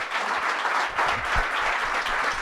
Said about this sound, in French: Je voulais vous laisser profiter des applaudissements avant de rompre